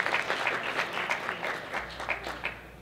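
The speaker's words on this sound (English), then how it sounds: "let's give a round of applause for these two fine actors to my right" Fans at a Mandalorian panel during a winter comic convention applaud two actors, a short, close wash of clapping that gradually thins out.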